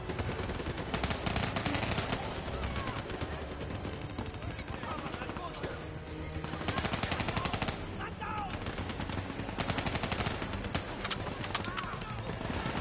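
Sustained gunfire from the Black Ops 3 co-op campaign video game, with rapid machine-gun bursts and shots rattling almost without pause while players talk over the action.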